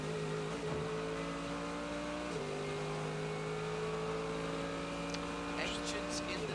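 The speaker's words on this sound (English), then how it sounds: "Engines in the dark. Why do they sound different?" Race car engines at night during the Rolex 24 at Daytona, a sustained droning whine with steady tones, one shift in pitch, and a commentator talking over it.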